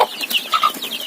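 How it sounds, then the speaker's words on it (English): Domestic chickens at a home poultry farm clucking in a quick run of close, clear calls, with several short sharp notes overlapping across about a second. "These are the local chickens."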